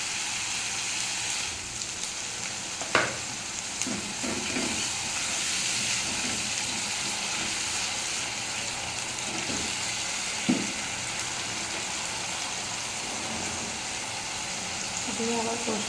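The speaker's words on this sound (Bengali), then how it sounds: "ভালো করে কষে নেবো পেঁয়াজটা" Onion paste and tomato puree sauté in a pan with a soft, continuous hiss and sizzle, broken by a few sharp clinks of a utensil against the pan.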